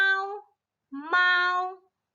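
A cat meows twice, each call clear and close with a pause of silence between them. The first is short and the second is longer and rises at the start. No other sounds are heard.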